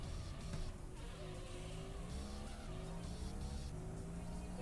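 In the Auto Modellista racing video game, a car engine revs steadily upward under acceleration, a continuous rising whine with faint tire noise, moderately loud and without talk.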